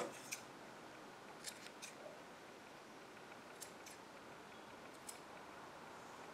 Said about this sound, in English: And then you can trim your pom-pom as well.